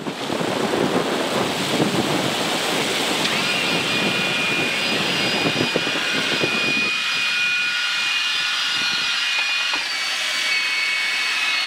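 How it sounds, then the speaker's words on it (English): Auxiliary power unit, a small jet engine, spinning up on a Blue Angels jet: loud roaring whoosh and rumble with a rising high whine that settles into a steady tone as the turbine reaches speed, heard from the cockpit. "right now we're starting the APU, which is a small jet engine used to start the main engines"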